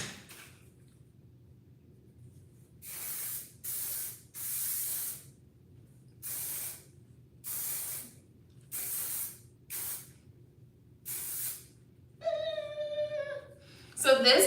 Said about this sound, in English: So this hairspray,